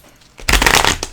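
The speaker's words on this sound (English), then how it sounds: "Oops, got to shuffle these again." Tarot cards shuffled by hand, a brief burst of riffling paper that starts abruptly after a quiet moment, close and fairly loud, with a final short flutter.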